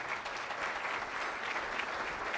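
Audience applause at a St. George Area Chamber of Commerce event welcoming speaker Jan Broberg, a steady, dense clapping from a room full of people throughout.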